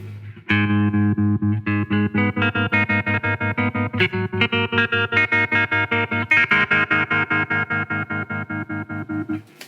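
An electric guitar runs through a Strymon Flint tremolo and reverb pedal. A sustained chord pulses in fast, even, choppy tremolo beats over about nine seconds, with a second chord partway through.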